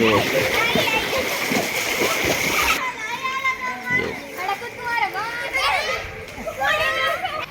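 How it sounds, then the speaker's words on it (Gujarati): Children splash and play in rainwater flooding a housing society during a heavy downpour in Tharad, Banaskantha, with busy, close splashing and excited kid voices throughout and shouting over it. "છોકરાને બહુ મજા આવે છે પાણીમાં નાવાની"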